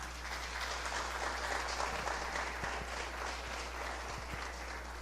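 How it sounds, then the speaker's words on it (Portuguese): Church congregation applauding together at a Communion service, a steady, dense wash of clapping that holds at an even level for the whole stretch, with a low hum underneath and no voices on top. "Então aplauda Ele por isso."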